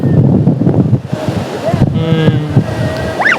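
A sea wave washes up a sandy tourist beach with a loud, rushing surge mixed with wind buffeting the microphone, while people's voices carry nearby.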